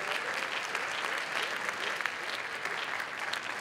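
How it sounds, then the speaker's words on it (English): An audience at a closing ceremony applauds the teams who demoed, a dense, continuous round of clapping from a crowd that holds steady for a few seconds, with no voices over it. "Let's give a huge round of applause to all the teams that demoed up here."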